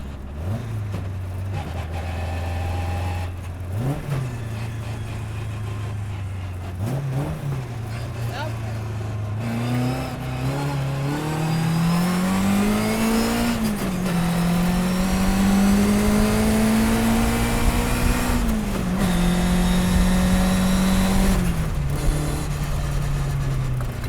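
A 1957 Lotus 7 racing car pulls hard in first gear, its engine droning loud and close as the pitch climbs and dips with each surge of throttle over a bumpy road.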